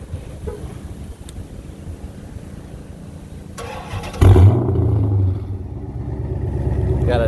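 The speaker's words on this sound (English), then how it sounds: "Also has an added set of Pypes exhaust, so it sounds really good, which we can fire that up for you right now." A 2008 Dodge Charger SRT-8 with an aftermarket Pypes exhaust cranks briefly and fires up, settling into a loud, deep, rumbling idle nearby after some faint background noise, with no talking.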